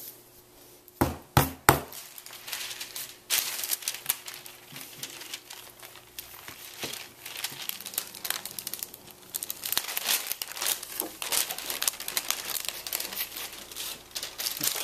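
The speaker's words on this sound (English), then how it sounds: "So I'm using this wax paper to just prevent the polymer clay from sticking." Wax paper crinkles and crackles while polymer clay is flattened on it, with a few sharp knocks early on followed by a long run of close, busy rustling and crumpling.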